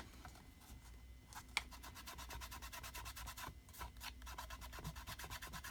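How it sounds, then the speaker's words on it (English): Hands rubbing off dried glue during journal crafting make quiet, rapid, repeated rubbing strokes in a steady rhythm, with one small tap early on. "I'm going to be peeling glue off my hands."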